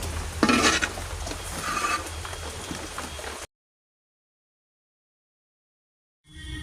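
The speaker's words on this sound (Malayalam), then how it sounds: "1 കിലോ ഉള്ളി, 1/4 കിലോ ഇഞ്ചി, കരിയാപ്പല 20 രൂപയുടെ, വെളുത്തുള്ളി 1/4 കിലോ, ഇത്രയും സാധനം ഇട്ട് ഇളക്കിക്കൊണ്ടിരിക്കുകയാണ്." Onion, ginger, curry leaves and garlic stirred in a pan for chammanthi podi, a soft scraping and sizzling rustle that stops abruptly into silence before faintly resuming.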